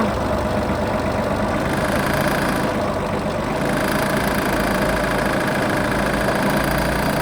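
A Japanese farm tractor fitted with a front loader and a rotary tiller runs steadily nearby, its engine a continuous low, rumbling drone that holds even throughout with no talk over it.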